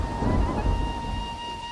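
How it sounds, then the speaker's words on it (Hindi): Thunderstorm with heavy rain, a steady broadband rumble of downpour with low thunder swelling early on, a constant loud wash with no voices. "बारिश तेज हो रही है"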